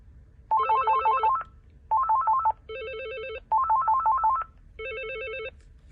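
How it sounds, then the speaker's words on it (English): An AT&T E5960C cordless phone rings during a global page, giving rapid warbling electronic trills in five bursts that alternate between two tones with short pauses between them, clear and close over faint background hum. "We just want to do a global page and see how the ringer sounds."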